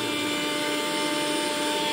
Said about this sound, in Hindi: पहले तो ओट्स को ग्राइंड कर देगा